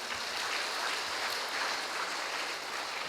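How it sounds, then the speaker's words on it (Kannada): A church congregation at a morning praise and worship prayer service claps continuously, a steady, even wash of many hands filling the room without pause. "ಚಪ್ಪಾಳೆ ತಟ್ಟಿ ದೇವರಿಗೆ"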